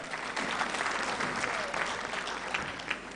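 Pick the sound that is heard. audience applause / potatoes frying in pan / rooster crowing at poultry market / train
audience applause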